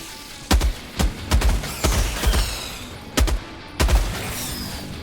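A heavy machine gun in Helldivers 2 fires about eight short, loud, punchy bursts at uneven intervals, with quieter battle noise in the gaps between them.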